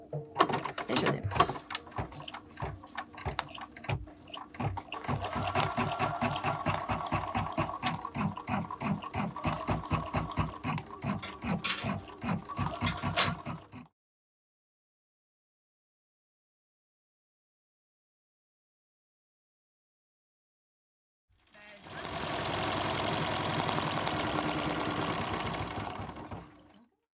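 A Bernina embroidery machine stitches a large design on a Mega HoopClip, its rapid, steady needle clatter running loud for about fourteen seconds, stopping in silence, then resuming with another even burst of stitching near the end.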